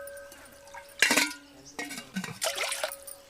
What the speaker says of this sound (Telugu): ఫస్ట్ అయితే మనం నీళ్ళు తీసుకుందాం కొన్ని.